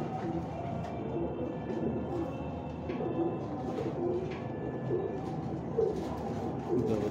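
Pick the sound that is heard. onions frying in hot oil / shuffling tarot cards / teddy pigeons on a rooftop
teddy pigeons on a rooftop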